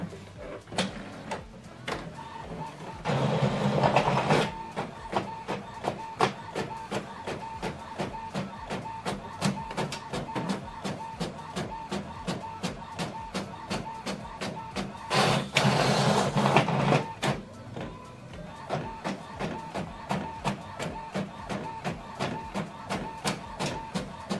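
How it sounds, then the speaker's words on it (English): An Epson WF all-in-one printer works through a double-sided document with a steady rhythmic mechanical clicking and whirring. Two louder bursts of paper-feed rumble mark the page passes. "Now this document is printing."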